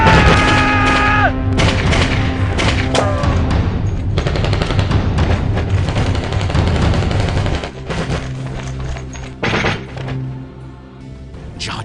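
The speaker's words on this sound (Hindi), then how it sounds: "कमांडोज ने अपनी कर्ल गुस्टॉव ग्रेनेड लॉन्चर से" Gunfire and a Carl Gustaf grenade launcher firing during a commando assault on launching pads produce loud bursts of rapid shots and heavy thuds in a dense, continuous barrage, with no voices.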